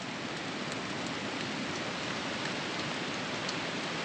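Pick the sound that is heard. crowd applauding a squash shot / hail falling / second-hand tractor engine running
hail falling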